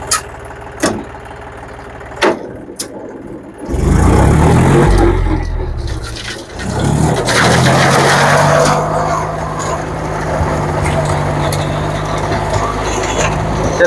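A few sharp knocks come first, then a tractor driving a Landforce Supremo rotavator bursts into loud running, the engine and rotating blades settling into a steady heavy drone close by.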